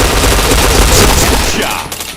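Rapid bursts of video game gunfire fill the stretch, dense and loud with overlapping shots, then thin out toward the end.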